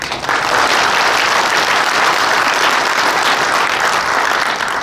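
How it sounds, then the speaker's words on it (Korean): Steady applause from a seminar audience on a stage, dense clapping filling the whole stretch at an even, loud level with no talk over it. "다시 한번 박수 부탁드립니다"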